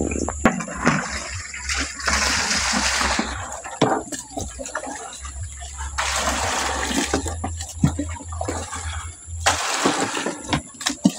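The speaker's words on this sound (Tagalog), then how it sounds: "Ngayon magdilig tayo para makahigop sila ng tubig." Water splashes and pours in several bursts onto kangkong plants, broken by short pauses, with a low steady engine-like hum running underneath.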